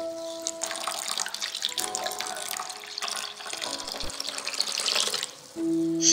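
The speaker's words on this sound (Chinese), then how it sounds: "用适量的水把它们调开，" Water runs and splashes steadily for about six seconds as it is poured into ground black sesame and glutinous rice flour to mix a sweet sesame paste, close and fairly loud, with no talking.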